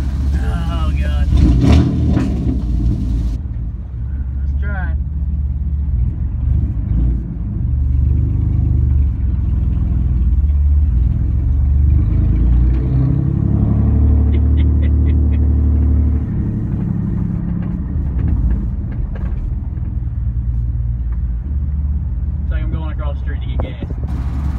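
Old, worn-out red truck driving, its engine giving a loud, steady rumbling drone close by that swells and settles, with people talking over it at the start.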